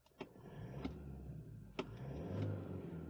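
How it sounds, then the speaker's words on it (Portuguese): A diesel engine in a 2023 Toyota Hilux STD Power Pack with manual gearbox rumbles low and steady, with a few short rev blips and a rising swell near the end, close by and with no voices. "Eita, motorzão diesel que eu gosto."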